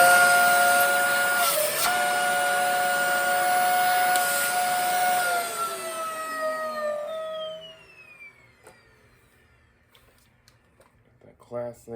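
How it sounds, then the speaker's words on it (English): A Dyson DC40 vacuum cleaner running with a loud, high whining squeal from a suspected lower filter fault, its tones sliding downward as the motor winds down, leaving near silence with faint clicks at the end. "that classic Dyson squeal"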